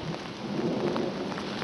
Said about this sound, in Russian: Наверное, сейчас ливанет дождь